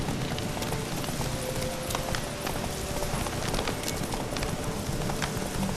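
Roach the horse gallops in The Witcher 3, hooves pounding in a steady, rapid clip-clop rhythm, close and continuous throughout with no talking over it.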